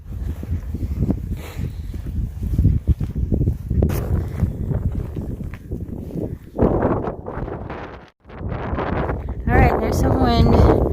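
Outdoor wind buffeting a microphone with a DIY windscreen: loud, gusty rumbling and rustling bursts that swell and fade, with a person talking over parts of it.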